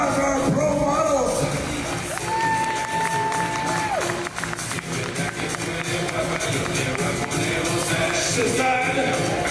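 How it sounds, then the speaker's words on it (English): Loud applause and cheering from a fitness championship crowd, continuous and roaring, with whoops and whistles rising above the clapping and a voice on a loudspeaker talking over it. "Let's have a big round of applause for our pro models"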